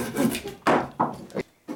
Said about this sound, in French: Et on rafraîchit la coupe franchement avec la scie.